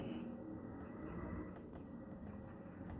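Chalk or marker scratches faintly on a classroom board while properties of a quadrilateral are written out, quiet intermittent strokes over a low room hum with hushed talk.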